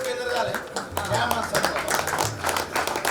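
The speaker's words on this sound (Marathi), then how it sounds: "शेंडगेसाठी खूप टाळ्या." Audience applause at a bus depot staff gathering as employee Avinash Shendge is named, a ragged run of claps mixed with a speaking voice over it.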